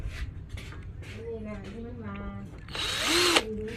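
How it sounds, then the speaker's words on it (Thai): A cordless drill starts grinding into concrete near the end, a loud, rough burst following a stretch where someone talks over faint handling sounds. "นี้จะมาดูนะครับว่าสามารถเจาะปูนได้หรือไม่นะครับ"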